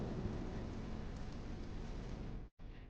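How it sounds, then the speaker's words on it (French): A night thunderstorm over farmland in Africa, with low rumbling thunder beneath steady rain, a dense continuous wash that cuts off abruptly near the end and then resumes. "l'orage gronde"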